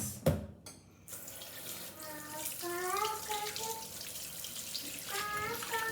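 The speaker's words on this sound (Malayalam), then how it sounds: "അപ്പോൾ ഞാൻ ചിക്കൻ ഒന്ന് നല്ലപോലെ കഴുകിയിട്ട് വരാം" Raw chicken is washed under a running kitchen tap, giving a steady hiss of water with splashing and gurgling near the sink, briefly broken near the start.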